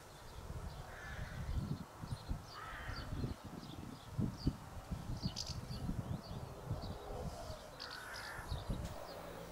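Several crows caw at a distance over a low rumbling wind, their harsh calls coming in scattered bursts across the scene.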